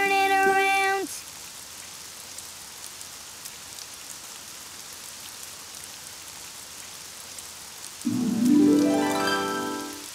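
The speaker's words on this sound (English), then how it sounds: "Oh, it's raining outside." Soft steady rain hisses in the background throughout, while brief tonal musical sounds play at the start and again near the end.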